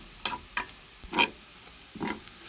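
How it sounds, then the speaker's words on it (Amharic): Soya chunks fry in a pan until brown, with four or five sharp scraping stirs standing out over a quiet background. "ብራውን እስከሚሆን ድረስ እንደዚህ መጥበስ"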